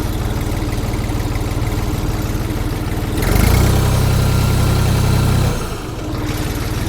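The diesel engine of a Jinma 3244HXRN mini tractor runs in first low gear, a loud, steady low rumble close by that swells briefly midway before settling back.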